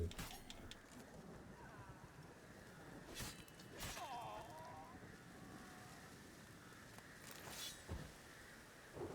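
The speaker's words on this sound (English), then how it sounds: "Sounds like there's an awful lot of crows." Crows caw in the woods of the Witcher 3 video game, with several scattered calls rising over a steady windy ambient bed, moderately distant and overlapping.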